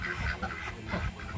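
Peking ducks crowd together and quack in a dense, continuous chorus of moderately faint calls, with no voices over them.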